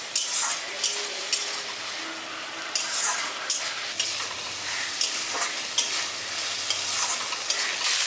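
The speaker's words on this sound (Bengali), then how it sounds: "এখানে মশলার সাথে আলুটাকে ভালো মতো মিশিয়ে নিয়েছি, আর আলুটা শুকনো শুকনো হয়ে এসছে" Spatula stirring boiled potato with spices in a pan, a steady soft sizzle broken by repeated scraping and clinking strokes as the dry filling for aloo kachuri is mixed.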